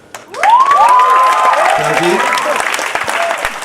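A graduation audience breaks into loud applause mixed with whoops and cheering, the clapping rising quickly into a dense wash with shouts ringing above it, while a name is called out over the noise.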